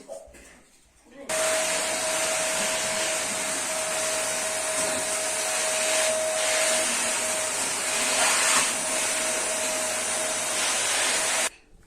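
A vacuum cleaner switches on and roars steadily at close range for about ten seconds, with a high whining tone over a broad rushing hiss, then cuts off.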